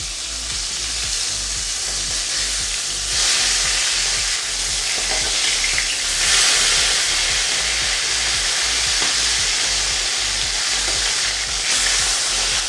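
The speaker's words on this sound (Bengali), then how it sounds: "গ্যাসের ফ্লেমটাকে মিডিয়ামে রেখে আমরা দুপাশ খুব কড়া করে ভেজে নেব" Hilsa fish fry in hot oil in a pan over a medium gas flame. The loud, continuous sizzle swells and crackles near the pan, and no one speaks.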